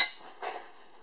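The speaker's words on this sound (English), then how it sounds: "so I can hit it with a hammer" A hammer strikes a metal rear axle part on a 2002 Ford Ranger twice, a sharp clink at the start and a duller knock a moment later, close by with a faint ringing tail.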